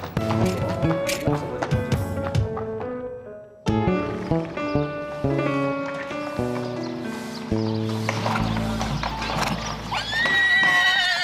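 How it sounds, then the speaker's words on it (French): A six-year-old grey horse neighs while its hooves clip-clop, with overlapping musical, tonal sounds throughout and a burst of louder noise toward the end. "Beau cheval gris de 6 ans, convaincu qu'il sera la star de demain."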